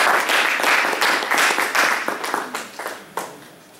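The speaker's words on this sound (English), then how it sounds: "please give yourself a warm round of applause" Workshop attendees applaud at the end of a presentation, with a burst of loud clapping that thins out and fades to a few scattered claps.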